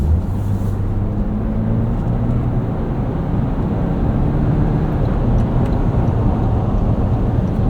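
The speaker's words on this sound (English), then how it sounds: "A little bit of wind noise at speed." Steady wind and road roar inside a 2024 Toyota Land Cruiser First Edition cruising at speed on the street: an even, continuous broadband rush over a low droning hum, with no talking.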